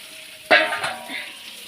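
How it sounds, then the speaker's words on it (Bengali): Onions drop into a hot pan and burst into a sudden, loud sizzle, and a crackling fry carries on at a lower level afterward, close up and without speech. "পেঁয়াজটা আমি ভেজে নেবো লাল লাল লাল লাল করে ভেজে"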